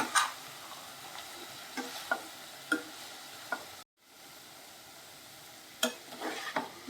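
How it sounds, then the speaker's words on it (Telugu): Mixed vegetables for an onion- and garlic-free curry stirred in a pan, with a soft sizzle under repeated scraping and clinking strokes of the spoon and a short pause before the stirring resumes. "ఇదంతా యాడ్ చేసుకొని బాగా మిక్స్ చేసేసుకుందాం."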